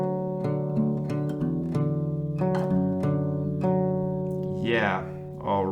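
A guitar melody picked on single strings, a rhythmic sequence of sustained plucked notes ringing clearly for several seconds before fading, with a brief voice near the end.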